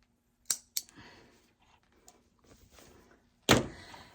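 Scissors snip the loose ends of a knotted T-shirt fabric tie, two quick sharp clicks close up followed later by a louder, longer cut, with soft handling noise between.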